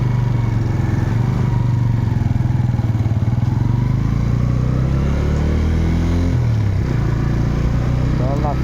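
Motorcycle carrying a rider and passenger, a loud steady engine drone with a rhythmic throb that dips and shifts pitch near the end, with voices talking over the ride.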